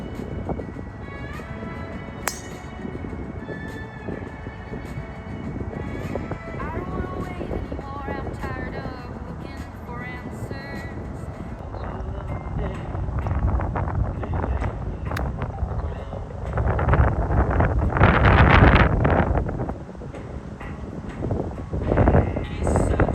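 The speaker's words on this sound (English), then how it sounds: "Had a big wind off the right." Strong gusting wind buffets the microphone on a golf course, a low rumbling roar that swells louder toward the middle and end, with faint voices in the background.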